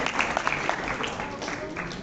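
A live audience applauds a presenting candidate pair at an Indonesian campus or organizational election debate, a dense steady patter of clapping throughout at moderate loudness with no talk over it.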